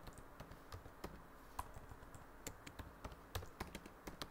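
Quiet, irregular keystrokes on a computer keyboard, with single clicks and small bursts of typing spread over a few seconds, close and soft, with no talking.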